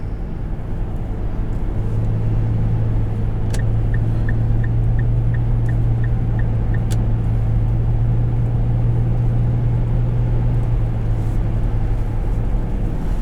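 Steady low engine drone of a 2010 Infiniti M35x heard from inside while driving, a constant hum with road rumble throughout, plus a short run of faint evenly spaced ticks partway through.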